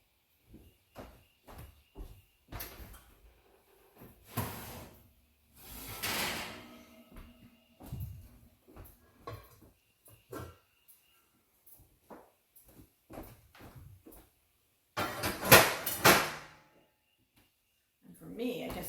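Kitchen bustle while a Dutch oven comes out of a cupboard: footsteps, cupboard and drawer knocks, and two louder clattering bursts of heavy cookware. A person speaks between the sounds.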